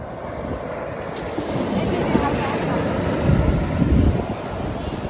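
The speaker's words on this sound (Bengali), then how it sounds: "ঢেউগুলো কেমন ভাঙে পারে এসে ভাঙে যাচ্ছে" Sea waves break and wash up onto Ramnagar beach in a steady, loud rush of surf, with wind buffeting the microphone throughout and a slightly stronger surge near the end.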